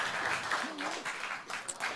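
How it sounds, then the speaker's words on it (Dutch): Sustained applause from a crowd at an Amsterdam political debate, a dense wash of clapping that rises and dips, with a voice speaking over it. "Geef ze een warm applaus."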